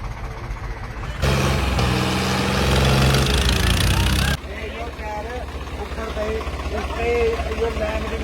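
Loud tractor engines rumble and rev during a tractor pulling match, with a heavy roaring burst in the middle, while people talk over the running machinery.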